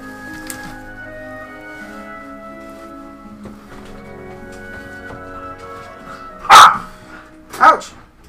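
A puppy gives two loud, sharp barks about a second apart, close by, over soft background music.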